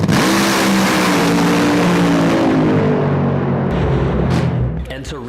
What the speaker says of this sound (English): There's funny cars to my left, funny cars to my right.